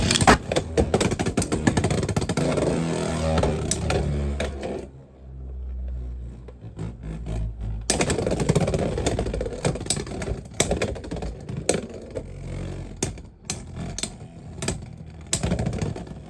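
Beyblade X spinning tops, a Driger S and UX-04 battle entry set, clatter in a plastic stadium with rapid sharp clicks and collisions, a short lull, then renewed clashing, close and loud.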